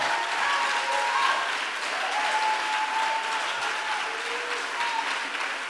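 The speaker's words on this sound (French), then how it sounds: "On peut acclamer le Seigneur bien fort." A church congregation applauds and cheers the Lord, a dense, sustained wash of many hands clapping together in a large room with a few faint voices rising above it, continuous and loud from start to finish.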